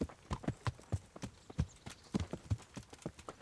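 Horse hooves clip-clopping in the video game Kingdom Come: Deliverance, a quick, even run of sharp hoof strikes that sounds close and clear, with no talk over it.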